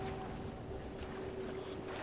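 Soft, continuous lapping of water and waves in the video game Bioshock after a crash landing in the sea, a low steady wash with a faint tonal hum beneath it and no speech.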